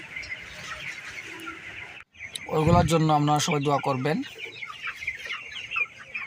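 Broiler chickens cluck and chatter nearby on a farm, with a loud burst of clucking in the middle, while a person speaks over them.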